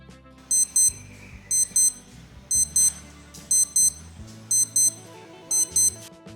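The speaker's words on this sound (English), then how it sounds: "Whether it's for waking up, hourly chimes, or crucial reminders, this alarm will get your attention" A Casio W-219H digital watch alarm beeps in short, shrill, rapid bursts, repeating in regular pairs over a steady background of soft music.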